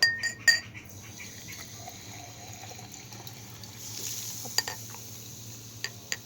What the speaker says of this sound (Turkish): Sonra gazozumuzu buna döküyoruz.